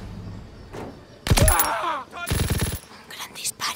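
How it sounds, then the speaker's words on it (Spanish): Gunfire in Call of Duty World at War: a loud sharp shot followed by a burst of rapid reports, then a few scattered bangs, with brief quiet gaps and faint voices before. "Un gran disparo."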